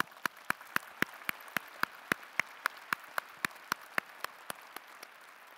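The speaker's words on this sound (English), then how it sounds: "Let's give our faculty a round of applause." Applause for the faculty at a university winter commencement ceremony comes through as evenly spaced, crisp claps. The claps are sharp and regular, moderately faint, over a soft hall ambience and fading slightly toward the end.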